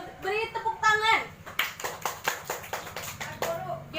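A class of seventh-grade students claps for a group presentation in a classroom, scattered rhythmic hand claps mixed with children's chatter and voices throughout.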